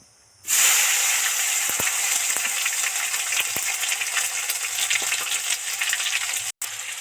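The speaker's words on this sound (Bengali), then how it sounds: "এবার সবার আগে টমেটোটা দিয়ে দেবো যাতে টমেটোটা কাঁচা গন্ধ চলে যায়" Tomato hits hot oil already holding dried red chillies, bay leaves and cardamom, bursting into a loud, steady sizzle that continues throughout with occasional clinks and crackles.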